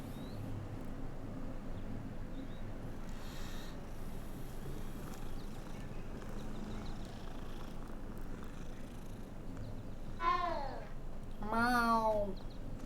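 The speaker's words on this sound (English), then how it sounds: "Ah, another cat." Cat in the video game Hogwarts Legacy, a low purring bed under game ambience, then two clear drawn-out meows near the end.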